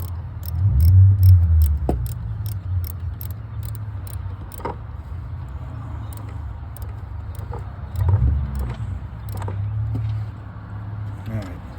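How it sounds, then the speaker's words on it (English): A quarter-inch drive ratchet tightens a car battery terminal bolt on an Alfa Romeo Tonale or Dodge Hornet, giving close, rapid bursts of clicking over a low background rumble while a person talks. "change my ratchet to clockwise, and put that on there"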